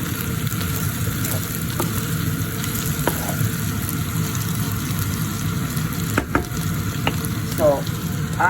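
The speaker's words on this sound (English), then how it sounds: "Everything is sauteed nicely," Vegetables with mushrooms and tomatoes sauté in a pan over medium heat for lasagna sauce, a loud continuous sizzle with occasional utensil clicks and scrapes.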